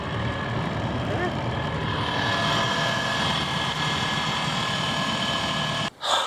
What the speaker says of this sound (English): This little tiny motor.